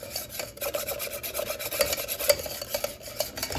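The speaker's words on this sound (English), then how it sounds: "You got to keep stirring it, stirring it, stirring it." A spoon stirs a sweet mixture with powdered sugar in a pot, making quick rhythmic scraping and rubbing strokes up close, with no talk.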